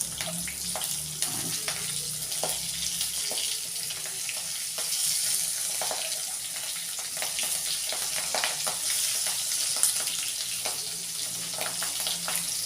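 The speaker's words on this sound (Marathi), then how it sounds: "ह्या मिरच्या अशा उलट्या सोडायच्या अशा, म्हणजे त्यांचा आतला मसाला तो फ्राय होईल" Stuffed green chillies fry in a pan over lowered gas with a continuous crackling sizzle, broken by scattered taps and scrapes as they are turned.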